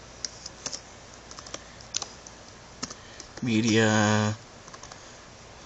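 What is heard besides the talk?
typing on a computer keyboard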